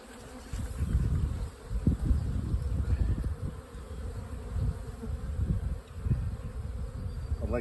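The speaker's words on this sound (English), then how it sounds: "there's a lot of bees in that feeder." Honey bees swarm and buzz inside an open hive feeder, a dense, steady low drone that holds throughout with small surges and dips, close and fairly loud with no voices.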